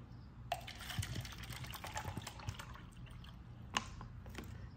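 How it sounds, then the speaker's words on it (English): Water poured from one bucket into another for a baking soda soil pH mix, a steady splashing, gurgling stream that runs for several seconds with a few louder splashes, close by and with no speech. "So I'm just gonna pour this water in here."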